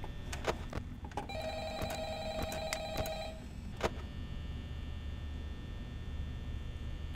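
An old-style telephone bell rings in the Five Nights at Freddy's video game, a few short electronic trills over a low steady hum, then fading to background noise.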